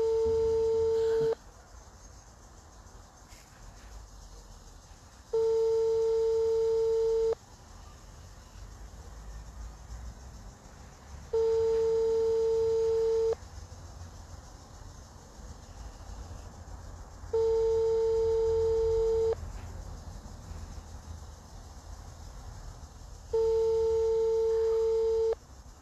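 A telephone line sounds an engaged tone, steady beeps repeating at even intervals of roughly six seconds over a low background rumble, with no talking.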